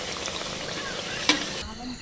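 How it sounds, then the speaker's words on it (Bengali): Oil sizzles and bubbles loudly in a pan for frying luchi flatbread, a dense, continuous frying noise that cuts off sharply near the end. "তেল দিচ্ছি লুচি ভাজার জন্য"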